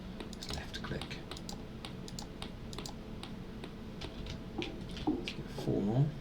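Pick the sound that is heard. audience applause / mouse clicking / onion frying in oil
mouse clicking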